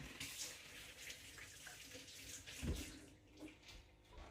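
Chicken rinsed under a running kitchen tap after being dropped on the floor, a steady low water stream with a brief louder splash near the middle, no talking.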